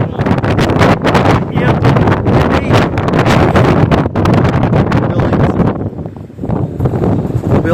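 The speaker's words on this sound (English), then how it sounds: "it's so cold and windy up here at the moment" Strong, cold wind gusting on an exposed hilltop on Mount Arden along the Heysen Trail, roaring and buffeting close to the microphone almost without pause before easing briefly near the end.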